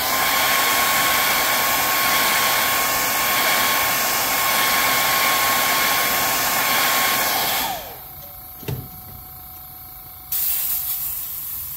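A heat gun blows a steady, loud roaring hiss over freshly airbrushed paint on a fishing crankbait, running for about eight seconds before cutting off, followed by a few faint handling clicks and a softer hiss.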